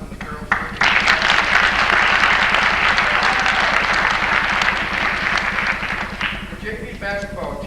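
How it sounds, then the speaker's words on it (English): At a school winter sports awards night, the audience claps for the girls' JV basketball team: a burst of loud, dense applause that holds steady, then tapers off into scattered claps as a voice begins speaking near the end. "if you would give applause for the girls"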